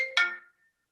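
A mobile phone ringtone sounds in a room during a live online concert, giving two short bright electronic tones that decay quickly into silence, near and clear with no one talking.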